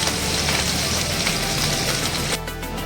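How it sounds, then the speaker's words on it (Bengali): Fish sizzling steadily in hot oil in a wok, a dense, loud, continuous frying hiss that dips slightly near the end. "তেল গরম হয়ে গেছে, এর মধ্যে আমি এক এক করে মাছগুলো দিয়ে নেব।"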